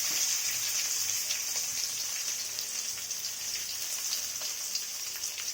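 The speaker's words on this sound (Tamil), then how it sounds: "வெங்காயம் சேர்த்து விட்டு நல்லா வதக்கி விட்டுக்கலாம்." Onions sautéing in a pan for vada curry, a steady bright sizzle and crackle with scattered popping, even in level and continuous throughout, no voices.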